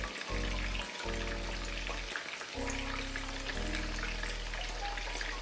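Salmon frying with lemon juice squeezed into the pan gives a steady, close sizzle throughout, with a few short pauses and crackly spits over the dense hiss.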